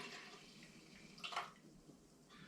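Tomato paste wash is poured gently into the drum of an Air Still Pro still, giving a soft, close liquid splash and gurgle that swells briefly mid-way over faint background hiss.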